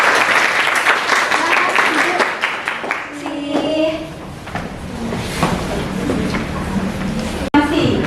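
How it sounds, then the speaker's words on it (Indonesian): Students in a classroom break into applause for a group after their presentation, a steady patter of clapping over a noisy room with talk running underneath. "Beri tepuk tangan untuk kelompok Adila."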